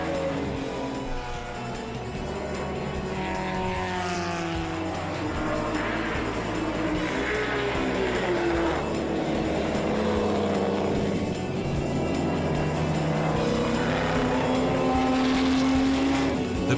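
Vintage race cars, including a 1966 Ferrari 275 GT-BC, a Maserati 250S and a Bizzarrini 5300 GT, pull away from the start at Spa. Their engines form a loud, continuous layered roar, with rising and falling pitches as the field accelerates.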